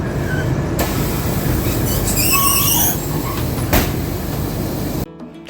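A train pulls out of Siliguri Junction from platform 3 at eight, a loud continuous rolling rumble with squealing wheel tones and a few sharp knocks, cutting off abruptly near the end.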